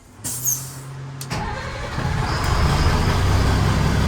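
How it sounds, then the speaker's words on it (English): Fire truck engine starting outdoors: a brief starter whine with clicks, then the diesel catching and settling into a loud, steady rumbling idle close by. "We want to start our truck up."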